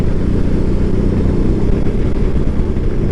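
A BMW R18 B motorcycle riding over rough Belgian cobblestones, a loud, steady engine drone mixed with dense road rumble and wind roar, continuous throughout.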